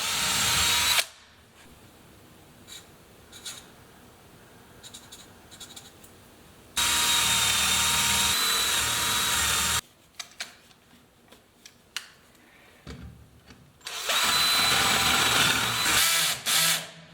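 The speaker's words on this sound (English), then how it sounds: "my drill is at the end of its capacity, so yeah, I can't drill thicker than 12" Loud bursts of a power drill boring holes into wood for a bee hotel, the drill at the end of its capacity, two long runs of whining and grinding separated by quieter scraping and handling noises.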